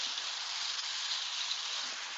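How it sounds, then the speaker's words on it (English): Rain during a storm chase along the upper Gulf Coast falls as a soft, even hiss, steady and fairly quiet across a couple of seconds with no other sounds. "And as you can see, it's raining now."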